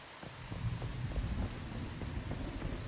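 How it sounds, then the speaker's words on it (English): Steady rain falls in the video game Once Human, a soft continuous patter of drops with faint low rumbling beneath, even and moderately quiet throughout with no voices. "I love the rain sound."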